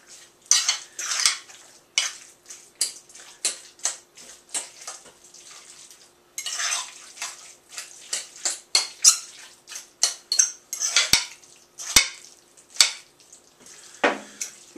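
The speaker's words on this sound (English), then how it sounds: "now it can really be stirred up" A spoon scrapes and clanks around a bowl of mashed homemade guacamole in a burst of close, irregular taps and scrapes, with brief pauses and no talking.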